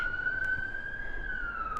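An ambulance siren wails past outside the medieval ruins of Warkworth Castle in England, a steady faint tone sliding gently down in pitch as it drifts by at a distance.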